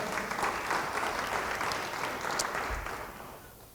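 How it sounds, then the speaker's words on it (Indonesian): A church congregation at an Indonesian Bible study bursts into dense, even applause that holds steady, then gradually tapers off near the end. "Yang percaya beri tepuk tangan bagi dia."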